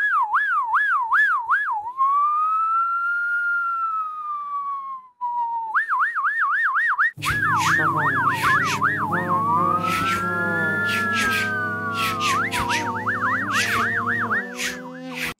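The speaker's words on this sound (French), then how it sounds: "rajouter d'autres bruits de voitures de police" Police car sirens layered as sound effects: a single wailing siren rises and falls alone at first, then several overlapping sirens and a low engine rumble join in, loud and busy throughout.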